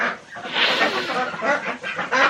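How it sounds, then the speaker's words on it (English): Several homestead chickens cluck and murmur close by in a continuous, busy flock chatter without a clear pause. "I've got a couple of chickens out"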